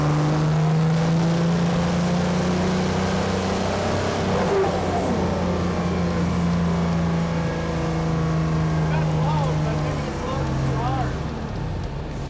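A diesel engine with new injectors running hard on a dyno, a loud steady drone with shifting pitch throughout, with talk over it.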